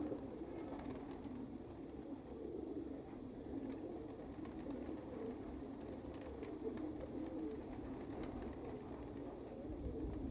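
Caged pigeons coo in a low, continuous murmur that runs steadily throughout, mixed with soft background rustle and no clear speech.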